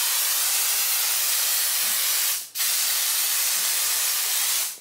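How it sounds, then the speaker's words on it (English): An aerosol can sprays in two long, steady hissing bursts aimed at a wasp indoors, separated by a brief pause, loud and close with no talking. "I'm spraying him."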